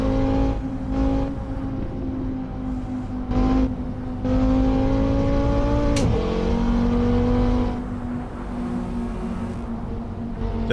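A race car engine in Assetto Corsa drones at a steady, high-pitched whine, then its pitch sweeps up and shifts partway through as it revs, holding a loud, continuous tone.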